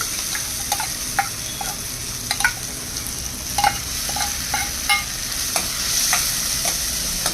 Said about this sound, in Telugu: ఇలా నూనెలో వేగేసరికి మామిడికాయ మెత్తగా అయిపోతుంది